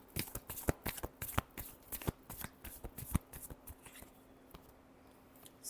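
Tarot cards being shuffled by hand, a close series of crisp riffling flicks and taps in uneven bursts that fade toward the end.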